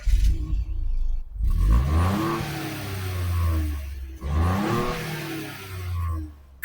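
A 2018 Ford Fiesta engine revs up twice in succession, each a rising whirring sweep with a brief drop in between, moderately loud and close with no talking.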